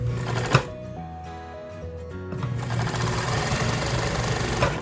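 An upholstery sewing machine stitches fabric folded over tissue welt along a chair's trim edge, running in a steady, fast mechanical rattle close by. A brief slower hum falls in the middle before the stitching resumes at full speed, with no talking.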